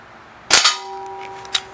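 A Crosman 1377 American Classic .177 pellet pistol fires a single sharp, loud crack, followed by a brief metallic ring from the target and a small tap a moment later.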